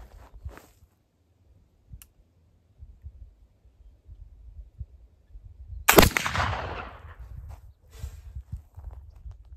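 A single loud black powder rifle shot fired with original Goex commercial powder, a sharp broadband blast with a long decaying rumble, standing out alone against quiet outdoor background.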